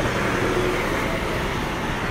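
Steady traffic noise at the main bus stop near Casemates Square in Gibraltar, a continuous even roar of road vehicles with no distinct passes and no talk.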